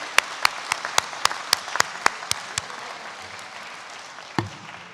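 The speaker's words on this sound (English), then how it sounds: "Give a round of applause to your friends and family" At a graduation ceremony, scattered audience clapping for friends and family rings out as about ten sharp, evenly spaced claps that die away, followed by one stray clap after a pause.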